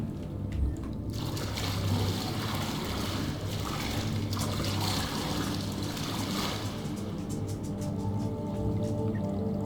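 In a video game, water pours and trickles steadily from burst reactor coolant pipes inside a moon base, a continuous close splashing wash with low mechanical rumble beneath.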